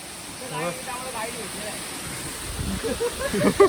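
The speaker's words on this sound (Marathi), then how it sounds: "आता पाण्याचा प्रवाह भरपूरच आहे ते बघू शकता" Steady broadband rush of a flowing stream fills the clip, with people talking nearby over it and some louder handling noises toward the end.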